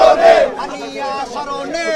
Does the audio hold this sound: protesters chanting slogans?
yes